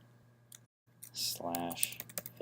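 Web address being typed on a computer keyboard, heard as a quick run of soft key clicks that overlaps a voice speaking.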